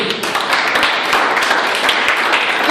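Dense, fairly loud clapping from a youth church congregation in Venezuela fills the whole moment as a continuous rattle of many hands, with no voices standing out.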